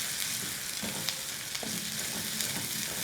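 Onion-coconut paste for a Kolhapuri mutton rassa sautéing in a pan, a steady close sizzle and hiss with a few soft scrapes of stirring.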